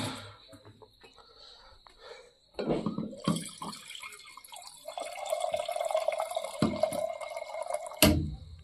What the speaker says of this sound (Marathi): थोडस पाणी टाकून घ्यायचं आहे आपल्याला